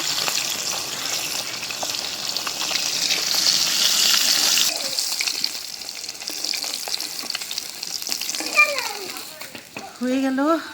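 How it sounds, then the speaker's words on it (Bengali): Fresh fish sizzles steadily in hot oil, a loud, dense hiss for the first few seconds that then quiets, with children's voices and other talk rising near the end. "হয়ে গেল মাছ ভাজা।"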